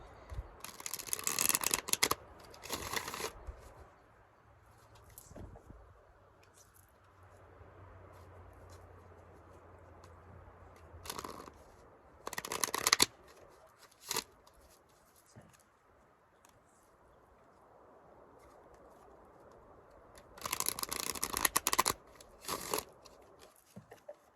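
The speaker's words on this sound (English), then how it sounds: "I'm going to end the video by pulling a card from this deck just to get a closing message." Tarot card deck being shuffled outdoors in a forest. Short, crisp bursts of riffling and patter come close up, with quieter rustling between them. Nobody speaks.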